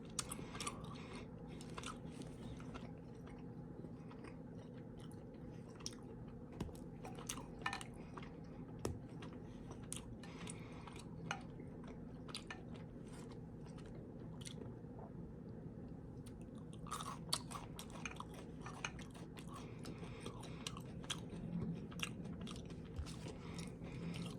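Close-up eating of Milk Duds chocolate caramel candy, with soft sticky chewing and scattered small clicks and squishes repeating steadily throughout, no speech.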